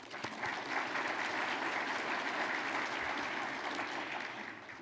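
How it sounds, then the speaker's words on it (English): Sustained audience applause fills a chamber of commerce annual meeting, a steady dense patter of many hands clapping at even loudness, with no speech over it. "Let's give him another round of applause."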